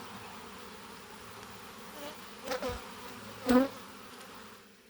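Low, steady drone of many honey bees buzzing close by on an open hive frame, with a couple of brief louder passes as bees fly near.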